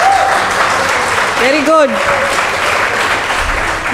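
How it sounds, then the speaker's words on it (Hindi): Applause from an open mic poetry audience at an awards event, a steady broad wash of clapping running under a voice who talks briefly in the middle. "एक बार जोरदार तालियों से अपनी मोटिवेशन बढ़ा लेते हैं थोड़ा."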